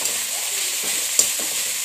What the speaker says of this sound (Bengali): আমার ঝিঙের খোসাটা ভাজা হচ্ছে একটু